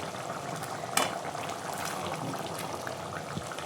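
Eggplant curry gravy for oil brinjal bubbles steadily in a pan at a low, even boil, with a brief utensil clatter near the start.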